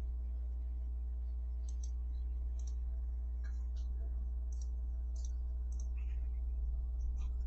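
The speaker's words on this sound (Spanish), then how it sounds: "Damos clic a Create Password y listo." Computer mouse clicking while activating a Turnitin account, a few faint, sharp clicks spaced irregularly over a steady low electrical hum, close and quiet.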